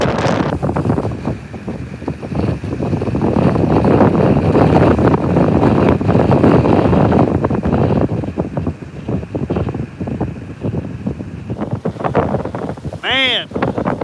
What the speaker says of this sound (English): I wish that wind would give me a break